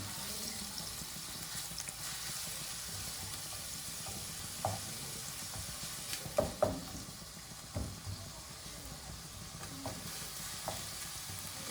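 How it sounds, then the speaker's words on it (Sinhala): Seasoned chicken pieces fry in a pan while being stirred, a steady broadband sizzle with scattered scraping clinks of a utensil against the pan, close and moderately loud throughout. "අපි සීසන් කරගත්තු මස් ටිකත් ඒකටම දාගමු. හොඳට කලවම් කරගන්න ඕනේ."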